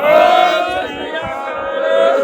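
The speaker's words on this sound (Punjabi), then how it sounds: "ਇੱਕ ਹੱਥ ਚੱਕ ਕੇ ਨਾਰਾ ਮਾਰੋ ਬੋਲੇ ਸੋ ਨਿਹਾਲ" A crowd of villagers at a flood gate roars back the Sikh jaikara response in one loud, sustained collective shout lasting about two seconds.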